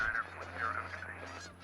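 A flock of geese honks in a flight simulator game, several bright calls close together over a low steady engine hum.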